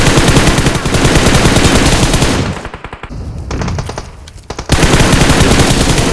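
Automatic gunfire in a shooting video game: loud, dense rapid-fire bursts that nearly fill the whole stretch, dropping off briefly in the middle before a fresh burst erupts, with no talking.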